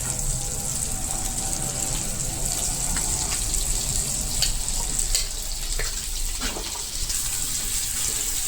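Raw banana pieces sizzle and crackle in hot oil in a pan, a steady close frying hiss with occasional stirring scrapes and pops, alone without talk.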